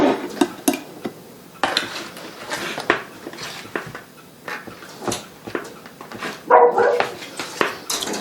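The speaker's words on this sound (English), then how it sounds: "And that's my hound dog in the background, Benny." A hound dog barks and bays in the background while dishes, pans and cutlery clatter nearby in a home kitchen during cooking.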